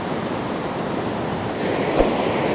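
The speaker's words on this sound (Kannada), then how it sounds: "ಅಲೆಗಳ ಸದ್ದು" Rushing sea waves at a beach, a steady broadband wash that swells louder partway through, with a soft thump near the end.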